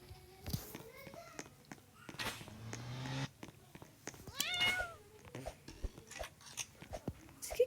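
A cat in a video game meows several times in short, close calls, mixed with soft crunching and chewing noises and quiet talk.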